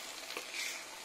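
Bitter gourd and egg stirred in a hot frying pan give a brief, close sizzle with a soft scraping swirl, lasting about a second.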